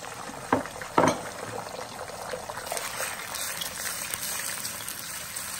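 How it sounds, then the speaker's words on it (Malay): Scrambled eggs fry in a pan with a soft sizzle and bubbling, plus two sharp clatters near the start, moderately faint and continuous. "kita goreng telur, buat telur scrambled egg lah."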